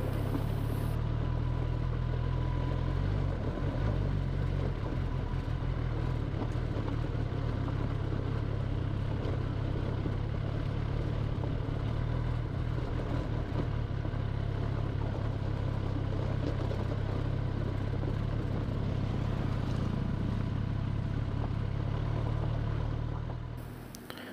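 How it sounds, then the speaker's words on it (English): Kawasaki ZX-10R motorcycle ridden in full power mode on a rough gravel road in India, a loud continuous engine drone with heavy wind rumble throughout. "I was still riding in full power mode and had a very tough time on this gravel road"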